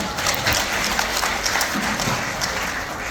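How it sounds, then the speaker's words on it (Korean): An audience at a Korean finance lecture claps for the lecturer, a dense, even burst of applause filling the room at steady loudness throughout. "주인 선생님께 다시 한번 큰 박수 부탁드립니다"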